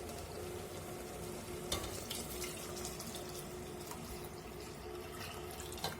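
Water streams steadily into a pot holding basmati rice, a soft continuous gush heard close up with no talking.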